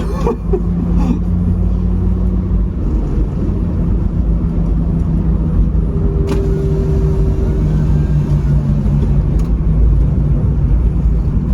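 A cheap non-turbo Volvo 850 drives around a race track at a track day, its engine a steady, loud, continuous rumble close by with no talk over it.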